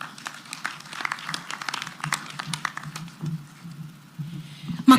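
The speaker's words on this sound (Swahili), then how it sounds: "Makofi mazuri jameni kwa Madam Chair wa bodi ya shule yetu." Scattered clapping from a crowd at a graduation ceremony at Ollessos National Polytechnic, uneven and moderately loud, rising and falling in small waves over a low background murmur.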